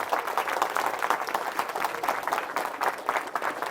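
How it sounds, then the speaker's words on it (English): Steady, dense clapping from a seminar audience in a university hall fills the space, a crowd's applause holding at an even level throughout. "Can we have a round of applause for yourself once again?"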